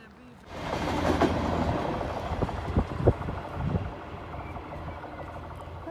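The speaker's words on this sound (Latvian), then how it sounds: "Mēs paspējām uz vilcienu. Braucam uz Rīgu." A passenger train to Riga rumbles along the rails with rhythmic clickety-clack and metallic clatter, loud and close, with faint voices underneath.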